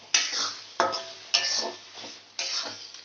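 A spoon scrapes and stirs cashew-poppy seed paste in a cooking pan, four distinct scraping strokes each starting with a sharp knock against the metal and trailing off, close and fairly loud.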